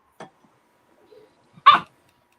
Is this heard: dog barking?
yes